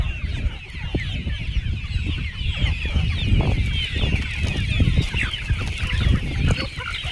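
Javari chickens at a poultry farm holding about 5,000 birds, a dense crowd of overlapping clucks and murmuring calls, continuous and close with no talk.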